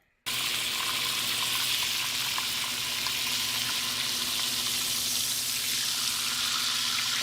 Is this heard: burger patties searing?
yes